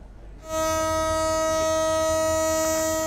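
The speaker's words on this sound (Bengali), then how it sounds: "খুব সকালে বিশ্ববিদ্যালয় স্টেশনে হুইসেল বাজিয়ে এসে ভিড়ল শাটল ট্রেন" A university shuttle train pulling into a station sounds a loud, sustained whistle that starts abruptly after a brief quiet moment and holds steady to the end.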